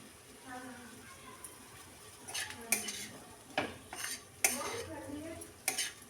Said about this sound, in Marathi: छान मिक्स करून घेऊया सतत आपण असं हलवून घेऊया